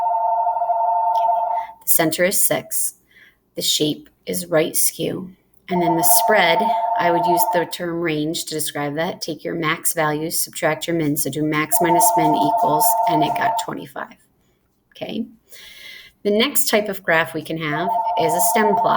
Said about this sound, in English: I'm sorry that my phone is ringing across the house.